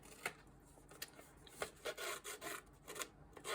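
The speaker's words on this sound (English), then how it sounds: "whether you use a distressing tool of some type, or whether you use your scissors" Faint dry rasping and rubbing strokes as paper edges are distressed with a distressing tool or scissors, irregular short scrapes close up and quiet with no talk.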